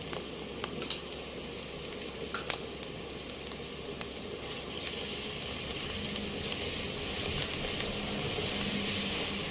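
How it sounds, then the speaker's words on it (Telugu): Ginger garlic paste sizzles steadily in a hot pan for a village-style country chicken pulao, a continuous close frying hiss with scattered crackles that grows slightly louder in the second half, with no voices. "అల్లం వెల్లిపాయ పేస్ట్ అలా వేగాలి"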